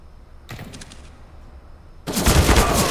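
A sniper rifle shot in CS:GO on the Nuke map: a muffled pop comes first, then a loud, sharp blast closes the clip with a heavy boom and trailing noise.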